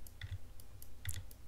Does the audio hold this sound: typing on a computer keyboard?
yes